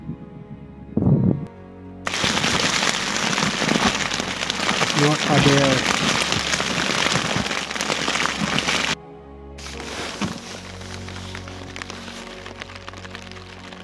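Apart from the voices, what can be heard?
heavy rainstorm while bikepacking in Mongolia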